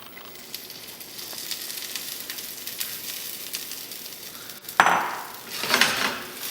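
Corn kernels hitting melted butter in a hot pan give a steady, close sizzle, swelling into a louder hiss after a sharp bump near the end, with faint scrapes of a utensil on the pan.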